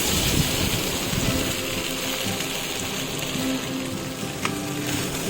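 Sabudana mix fries in ghee in a hot pan, giving a steady, close sizzle and crackle with no pauses.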